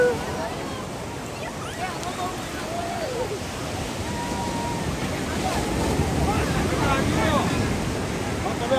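Sea waves wash in at Diu beach, a steady broad roar of surf mixed with gusty wind buffeting the microphone, rising slightly toward the end, with faint voices nearby.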